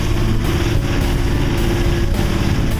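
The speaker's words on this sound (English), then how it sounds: "Drop the main and turn the engine on" A sailboat's auxiliary engine runs at a steady, droning pitch, loud and close, with a constant mechanical hum and no voices over it.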